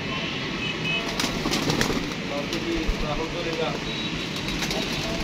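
Pigeons coo softly among a flock kept for pigeon flying, outdoors under a constant wash of background noise. Someone talks over them.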